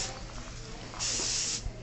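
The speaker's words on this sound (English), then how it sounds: "use this aerosol shampoo," A quiet, short hiss of aerosol dry shampoo sprayed onto hair roots lasts just over half a second before stopping.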